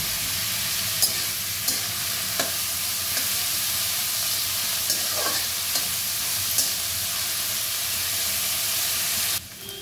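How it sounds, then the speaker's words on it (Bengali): Chopped onion and green chilli sizzle steadily in a hot pan, a continuous close frying hiss broken by occasional clicks of stirring, with no talking. "একটু ভাজা ভাজা হয়ে এসছে"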